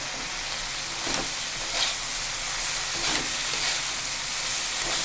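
Shrimp and turmeric fry in a pan with a dense, continuous sizzle, overlaid by a few rhythmic scraping strokes of a spoon stirring the mixture.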